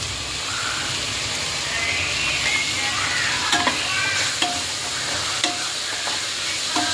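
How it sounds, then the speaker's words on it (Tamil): Tomatoes with Sakthi chicken masala sautéing in a pan, a steady close sizzle and hiss with occasional light scrapes and clicks of a spoon stirring through it. "இதையும் நல்லா போட்டு நல்லா வதக்கணும்"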